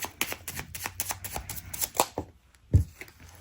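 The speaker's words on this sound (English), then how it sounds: "Cards feel a little stiff. Just need a quick shuffle." Stiff tarot cards being shuffled by hand, a quick run of crisp riffling flicks and slaps up close, ending in one louder thump as the deck settles.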